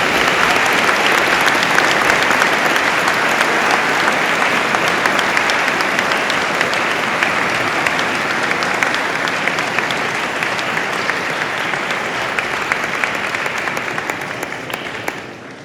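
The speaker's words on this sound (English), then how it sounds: "Let's give a round of applause to the recipients." A large audience claps steadily and loudly at a high school award presentation, dense sustained applause without pauses that tapers slightly toward the end.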